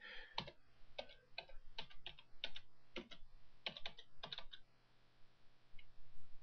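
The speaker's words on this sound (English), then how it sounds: "So just type in bonsai tree" Fingers type a search on a computer keyboard, quick bursts of crisp close key clicks in irregular clusters, trailing off to near silence near the end.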